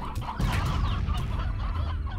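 Hens in the video game Slime Rancher cluck in a brief, busy burst of overlapping, close clucks lasting a couple of seconds.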